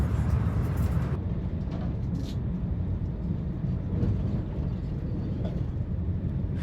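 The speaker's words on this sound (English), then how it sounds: "I love this train ride." Steady low rumble of a train interior during a ride, a continuous rolling drone with faint rattles and no clear voices.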